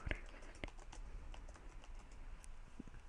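Quiet, close tapping of keys on a graphing calculator keypad as data values are entered, a few sharp clicks followed by lighter scattered taps over low room noise.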